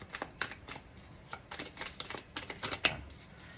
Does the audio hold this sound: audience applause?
no